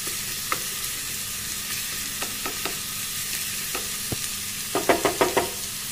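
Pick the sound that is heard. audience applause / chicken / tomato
tomato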